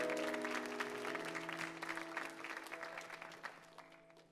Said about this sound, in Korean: 우리 함성과 격려로 우리 축복의 박수 모시도록 하겠습니다